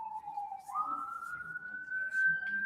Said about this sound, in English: As we get more sirens going by.